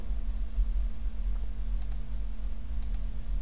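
A computer mouse double-clicks twice, each a quick pair of crisp, faint clicks about a second apart, heard over a steady low electrical hum with no speech.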